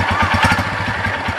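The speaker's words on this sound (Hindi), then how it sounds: "ये इस बाइक की इडल वॉइस है, अभी बाइक इडल कर रही है।" A Honda CB150F motorcycle engine idles up close with a steady, rapid low thumping pulse and a rough mechanical chatter, no voices.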